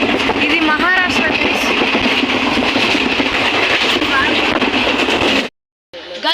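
A passenger train runs on rails through Maharashtra near Aurangabad station, with loud continuous rumble and rhythmic wheel clatter, voices faintly mixed in, before a sudden brief dropout near the end.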